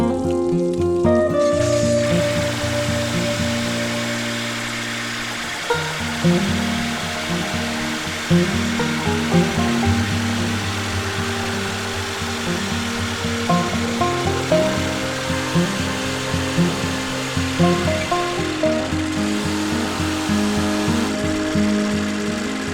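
A 1979 Johnson-Evinrude 9.9/15 outboard motor being spun with a drill to start it, a loud steady whirring drone that shifts into a rougher pulsing run with rhythmic knocks, no talking.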